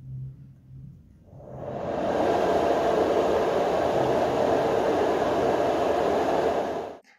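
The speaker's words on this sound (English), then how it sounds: "This is a white noise machine that has an internal fan." A Snooz white noise machine with an internal fan switches on and holds a steady, loud, broadband hiss that swells up within a second and then stays even and uninterrupted before cutting off.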